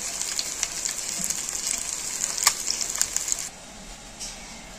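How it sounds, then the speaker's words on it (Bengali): Eggs dipped in gram flour batter frying in hot oil, a close, crackling sizzle with scattered pops that cuts off sharply near the end, leaving only faint background. "এপিট ওপিট করে ভালো করে ফ্রাই করে নেব ডিমগুলো।"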